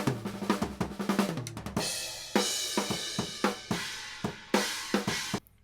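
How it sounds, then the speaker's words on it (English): Raw drum kit through unprocessed overhead microphones panned left and right: a rhythmic pattern of close, punchy hits with bright cymbal crashes ringing and decaying between strikes. "Without any plugins on the overheads, they sound like this"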